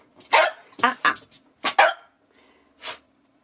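Several short sharp dog barks in quick bursts, fairly close, with a pause and then one more bark after a gap.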